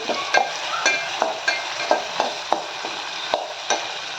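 Onion and tomato fried over low heat in a pan for a Malvani rajma curry, with constant sizzling and regular scraping strokes of a spoon roughly every few tenths of a second.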